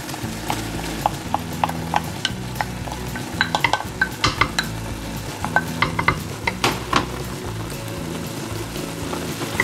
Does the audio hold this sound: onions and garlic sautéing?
yes